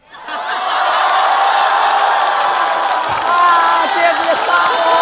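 At a stand-up comedy show, an audience applauds and cheers, with laughter and whoops mixed into sustained clapping and voices in the room.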